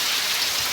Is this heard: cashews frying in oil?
no